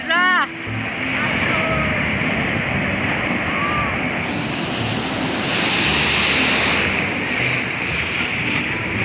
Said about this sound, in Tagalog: Malas yung alon